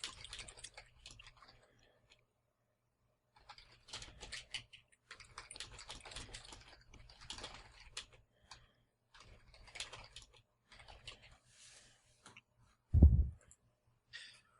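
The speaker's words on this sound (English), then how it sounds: "Lots of typing." Typing on a keyboard comes in irregular bursts of light clicks with short pauses between them. A sharper thump lands near the end, and nobody speaks.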